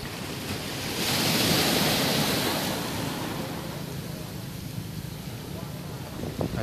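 Sea waves wash steadily onto the long beach at Bãi Dứa in Vũng Tàu, Vietnam, on a calm evening: a continuous broad roar of surf with some wind buffeting the microphone, swelling early and then easing.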